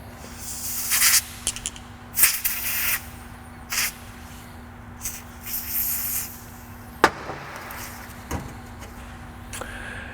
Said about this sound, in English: It starts with penetrating oil.